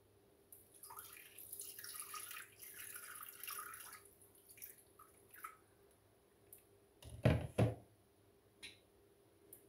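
Water is poured in for curry gougère choux dough with a soft, quiet trickling pour, followed by a couple of sharper splashes and a few scattered drips.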